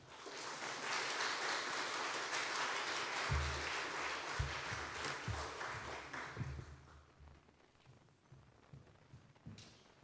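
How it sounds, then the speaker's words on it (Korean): A church congregation claps to welcome a pastor at a church officers' seminar. The applause is a full, steady wash that fades over the later seconds, with a few thumps and footsteps as he comes forward. "우리 목사님 나오실 때 우리 박수로 우리 감사의 말 환영하겠습니다."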